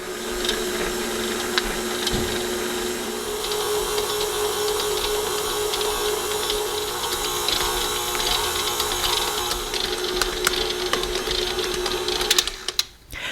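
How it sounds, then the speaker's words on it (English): A stand mixer on a low speed setting kneads bread dough with a dough hook, giving a continuous mechanical whir with a rhythmic clicking, gear-like rattle that runs steadily and then stops abruptly near the end. "set it to level 2 and let this go and mix for roughly around 8 minutes."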